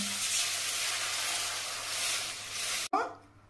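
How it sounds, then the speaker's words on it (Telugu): Tomato juice is poured into a hot tempering of spices and pepper powder for tomato charu, giving a loud, steady sizzle and hiss that ends abruptly, then a sharp burst of renewed sizzling that fades away. "తయారు చేసుకున్న టమాటా రసాన్ని ఈ తాలింపులో పోస్తాను"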